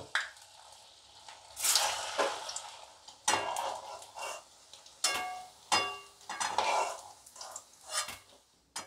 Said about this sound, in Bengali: এইভাবে বাকিগুলো ভেজে নেব